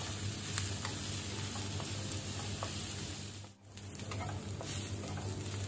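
Onions and curry leaves frying in oil over a medium flame, giving a steady close sizzle and crackle with a brief dip partway through, no voices.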